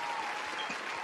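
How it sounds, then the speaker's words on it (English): A brief burst of steady clapping fills the space for about a second, applause from a small group at a sneaker show. "Round of applause."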